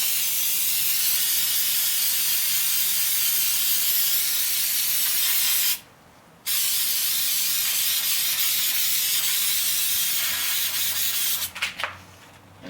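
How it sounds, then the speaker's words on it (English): 3M Super 77 spray adhesive sprayed onto a 2008 Honda Accord door panel and armrest: a loud, steady aerosol hiss held for several seconds, a brief pause, then more spraying ending in short sputtering bursts. "So I'm going to spray everything that I need to attach"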